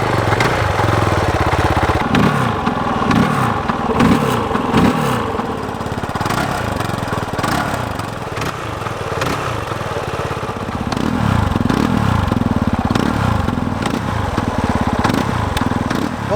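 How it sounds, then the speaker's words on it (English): A Kove 450 Rally motorcycle engine with a new aftermarket exhaust runs steadily with a deep, throbbing exhaust note, loud and close, rising and falling slightly as it idles and revs. "But now it's about time for us to fire our brand new exhaust and see how it sounds."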